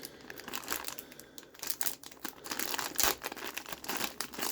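Old, brittle plastic packaging from a 1987 toy is ripped and crinkled by hand, a close, continuous run of crackling, tearing rustles with sharp snaps, with no voices.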